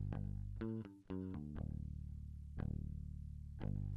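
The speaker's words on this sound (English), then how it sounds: "Fairly normal bass sound." Unprocessed bass guitar in an emo/alternative rock track, playing a clean, fairly normal-sounding line of sustained low notes with a few sliding changes, warm and full, alone without other instruments.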